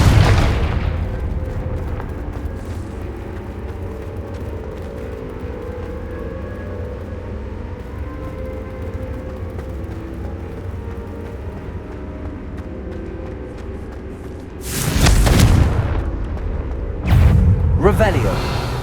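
Repeated Confringo fire-spell explosions in the Hogwarts Legacy video game: a low rumbling background, then heavy booming blasts around the end, with one long burst followed by two more sharp hits.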